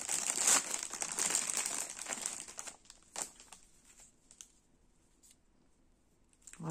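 A packet of cross-stitch embroidery thread skeins being opened, with close crinkling and rustling of plastic wrapping for a few seconds, then scattered softer crackles and a last burst of rustle at the end.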